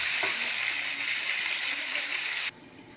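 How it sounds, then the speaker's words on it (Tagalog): Garlic, ginger and onion sautéing in a hot pan for chicken tinola, a steady loud sizzle and crackle that cuts off abruptly near the end, with no talking. "nakapagsangkutsa na po tayo ng bawang, luya at saka sibuyas"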